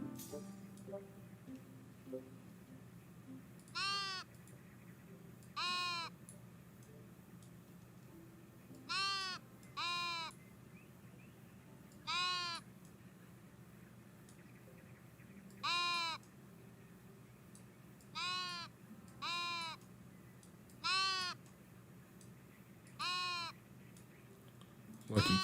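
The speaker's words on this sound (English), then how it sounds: "there goes the sheep" Sheep bleating in a cozy video game demo, a series of about ten short, separate bleats spaced a couple of seconds apart over a quiet, low background.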